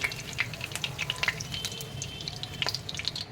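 Vegetables fry in a pan for a vegetable korma, a steady close sizzle with scattered crackles and pops and no talk.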